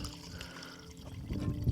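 Cooking oil poured over a baby diaper used as a filter, a soft liquid trickle and splash that grows slightly louder toward the end, close by with no talk.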